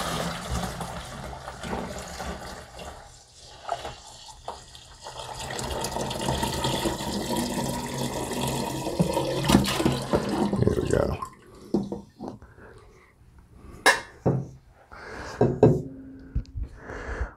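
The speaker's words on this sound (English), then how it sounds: "we're going to go ahead and pour that into our primary fermenter" Sweetened elderflower juice pours into a primary fermenter on a table, a steady splashing liquid stream for about ten seconds that then breaks into separate splashes and drips, with a few sharp knocks near the end.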